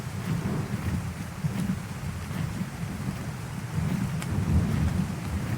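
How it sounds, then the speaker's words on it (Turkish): Thunder rumbles low and heavy in the video game Ark: Survival Evolved over a steady wash of falling rain, swelling in two broad rolls with no voices. "Şimşekler, gök gürültüleri."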